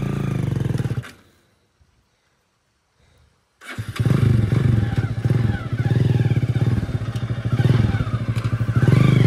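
A motorized tricycle engine runs with a loud, rough, pulsing chug, cuts out into near silence for a few seconds, then restarts and keeps clattering steadily close by.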